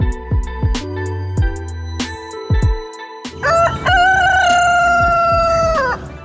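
Chickens cluck and squawk in a rapid irregular series close by, then a rooster lets out a loud, sustained crow, with no voices.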